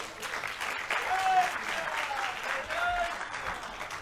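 A crowd claps for speaker Anshul Saxena at a talk on reclaiming Hindu glory, the applause steady for about four seconds, with cheering or whistles rising over it.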